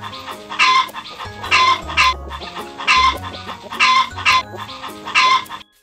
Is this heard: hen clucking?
yes